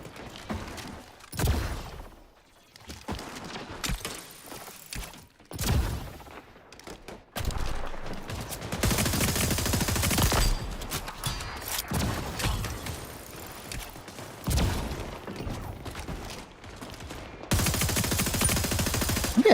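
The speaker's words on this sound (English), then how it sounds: "Wait, why do I have the SMG on?" An SMG fires in bursts in a video game, with rapid automatic rattles separated by short pauses and louder sustained volleys later, alongside mechanical clicks and no speech.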